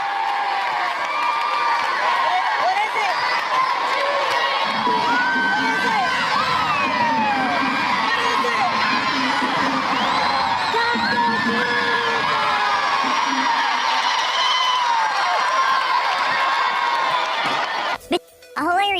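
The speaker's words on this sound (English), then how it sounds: "Here is LeBron and some other fans in a game cheering for Taco Tuesday." Crowd of fans at a basketball game with LeBron James cheering and whooping loudly for Taco Tuesday, high children's shouts and yells swelling across the arena before cutting off abruptly at the end.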